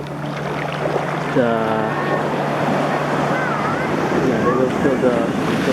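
At Carita Beach, ocean surf runs as a steady roar of breaking and washing waves, with wind buffeting the microphone and faint voices of children nearby.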